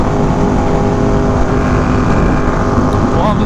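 A Ducati 1299 and a Ducati V4R with the same exhaust on a canyon group ride produce a loud, steady engine drone close by, with a brief rising rev near the end.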